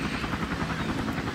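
A helicopter in the Emergency 4 game with the Camden County mod gives off a steady, dense rotor thrum that sounds close and continuous, with no talk over it.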